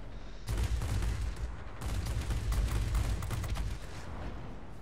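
Rapid, continuous cannon and machine-gun fire from a Messerschmitt ME 109 TL heavy fighter in an air combat game, a dense roaring rattle in sustained bursts with a brief pause, loud and close.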